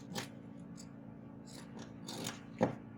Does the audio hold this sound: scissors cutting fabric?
yes